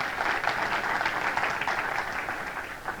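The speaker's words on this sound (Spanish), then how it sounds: "Dale ese aplauso al Señor." A church congregation clapping for the Lord during a sermon, a steady, moderately loud wash of applause that fades slightly at the end.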